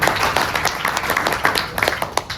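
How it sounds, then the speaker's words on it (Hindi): Short, uneven clapping from a small audience in a training session, distinct hand claps rising and falling over a couple of seconds with no voices. "तालियां सर के लिए।"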